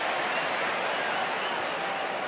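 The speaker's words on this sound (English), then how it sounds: "Crowd enjoying this." A large football crowd at an AFL match between Fremantle and Port Adelaide roars in a steady, broad wash of cheering and clapping, distant and unbroken throughout.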